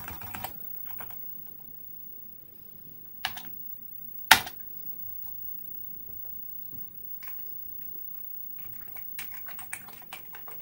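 Keys tapped on an Amiga A500 computer keyboard during a keyboard test, a few scattered clicks and a sharp louder clack early on, then a quicker burst of typing near the end, close and alone in a quiet room.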